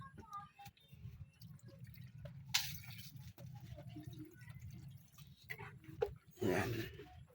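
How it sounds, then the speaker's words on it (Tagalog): Water splashes into a cooking pan holding 555 sardines and papaya, with faint drips and a louder pouring burst near the end over a low steady background hum. "lagyan natin ng tubig"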